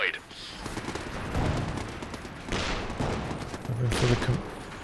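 Scattered gunfire and explosive bursts during an ambush in the strategy game Company of Heroes 2, with several heavy volleys rising over ongoing battle noise and a voice talking underneath.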